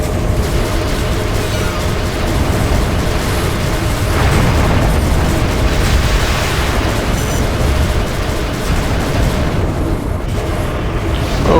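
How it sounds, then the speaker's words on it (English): A bomb explosion in the space combat game FreeSpace 2: a loud, dense, continuous roar and rumble that swells midway and keeps going without a break. "I got killed by bomb"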